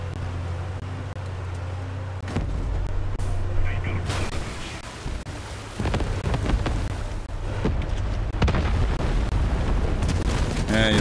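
Vehicle weapons fire in the online combat game Crossout, a dense, continuous barrage of booming shots and blasts with repeated loud hits over steady engine rumble and game noise.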